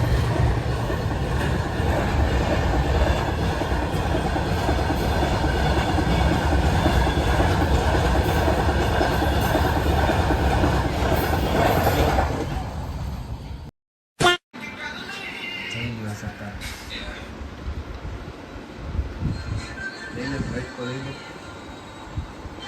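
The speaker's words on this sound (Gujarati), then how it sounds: "ટ્રેન આવતી હતી એટલે ઊભા હતા." A train rumbles past at close range with a loud, steady rolling clatter of wheels on rails for most of the stretch, then cuts off abruptly into quieter outdoor ambience.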